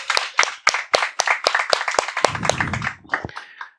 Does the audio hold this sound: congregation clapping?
yes